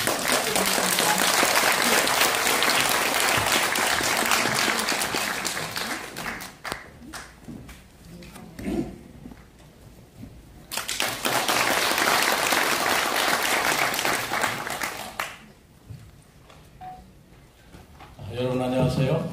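Loud, sustained audience applause at a seminar on Sejong as an administrative capital, two long bursts of clapping separated by a quieter pause with a few scattered claps.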